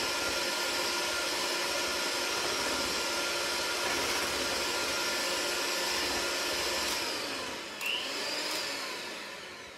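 An electric hand mixer whirs steadily as sweet wine is beaten into tiramisu egg yolks, a loud, continuous motor drone that holds even throughout and dips briefly near the end.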